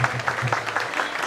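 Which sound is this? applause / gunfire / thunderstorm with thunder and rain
applause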